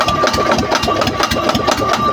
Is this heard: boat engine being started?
yes